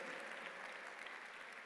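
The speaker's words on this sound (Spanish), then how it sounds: "alguien que le aplauda fuerte a la palabra de Dios" Church congregation clapping for the word of God during a sermon, a steady dense wash of applause from many hands, fairly faint and distant, with no talk over it.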